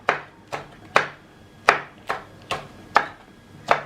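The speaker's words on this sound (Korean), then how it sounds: "고추만 썰면 돼" A knife cuts through chili peppers on a cutting board, giving eight crisp, evenly spaced chops in a steady rhythm, close and clear with no talking.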